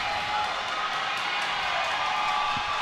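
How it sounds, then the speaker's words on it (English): Basketball arena crowd roaring during a Grambling State versus Bethune-Cookman men's game, a sustained even roar of many voices at moderate volume, unbroken from start to finish. "The crowd is roaring."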